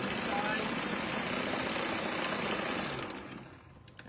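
Sewing machine stitching a string-quilted eyeglass case, a steady close mechanical whir that runs evenly before dropping away near the end.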